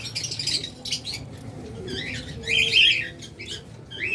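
Caged lovebirds, including an egg-carrying pair, squawk and chirp in shrill, close bursts over a low background murmur, with calls rising to a louder cluster midway.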